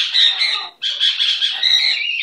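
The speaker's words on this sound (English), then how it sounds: "My little pretty bird." A pet bird squawks and chirps close to the microphone, giving two bursts of harsh, shrill calls with a short break between them and no talking.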